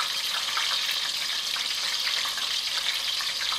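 Apple slices fry in hot fat, giving a steady, dense sizzle with crackling texture that holds evenly throughout at close range, with no voices.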